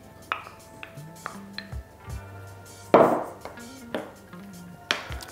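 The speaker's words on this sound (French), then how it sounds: "Je vais remuer." A spoon stirs small pieces of feta into a courgette mousse mixture in a bowl, making a series of light clinks and taps at an uneven rhythm, close by, over a faint steady hum.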